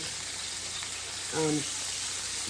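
Salmon pieces frying in a pan, a steady sizzle that runs through the clip, with a brief voice-like sound partway through.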